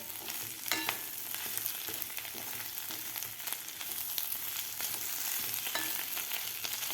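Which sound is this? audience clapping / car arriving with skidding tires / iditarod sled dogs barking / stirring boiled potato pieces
stirring boiled potato pieces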